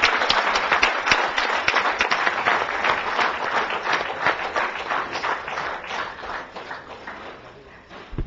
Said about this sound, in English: A huge round of applause to that,